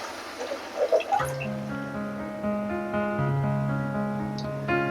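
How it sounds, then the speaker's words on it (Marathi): Water is poured into a pot of drumstick curry, starting with a few splashes and then settling into a steady rising gurgle as the vessel fills. "तांब्यावर पाणी घालूया आपण"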